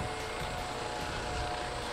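A helicopter carrying the president lands in the Valle Nuevo fire zone, its rotor and engine roar loud and steady, filling the whole stretch with no voices over it.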